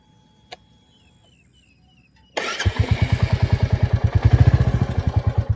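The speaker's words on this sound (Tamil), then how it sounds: "வண்டியோடைய சவுண்டு பாருங்கள்" Royal Enfield Classic 350 motorcycle engine starting after a quiet stretch, then settling into a loud, close, steady thumping idle with evenly spaced pulses.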